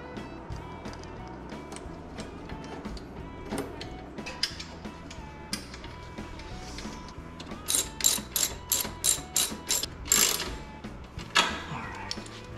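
A ratchet tightens a bolt and hex nut on a motorcycle luggage rack, close-up, with scattered clicks and then a burst of rapid, rhythmic ratcheting near the end.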